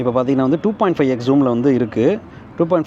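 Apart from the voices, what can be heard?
No everyday noise stands out behind the speech.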